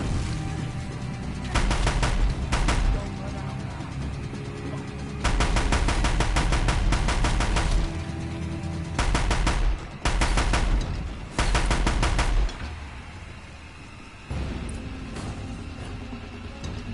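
Automatic gunfire from a gun picked up in the video game Horizon Zero Dawn, loud sustained bursts of rapid fire in several long volleys separated by brief pauses, layered over a constant game soundscape.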